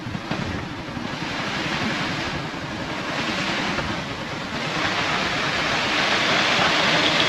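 Steady rushing water flows continuously, a broad even wash of noise that holds throughout and swells slightly toward the end.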